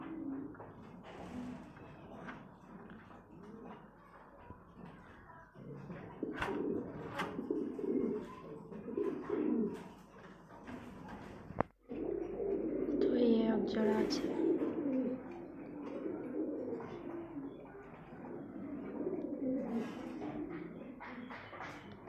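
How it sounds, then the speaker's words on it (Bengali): Pigeons at a small pigeon farm coo repeatedly in soft, overlapping bursts, fairly faint and close, while a person talks nearby. "খুবই সুন্দর দেখতে পায়রাগুলো"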